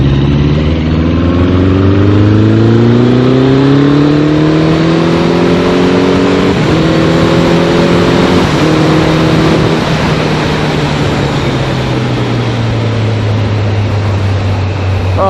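A Suzuki GSX1400 motorcycle engine pulling steadily in third gear on slow twisty roads, a loud continuous drone that rises in pitch, dips briefly at gear changes or throttle shifts, then settles lower, with wind noise all the way through.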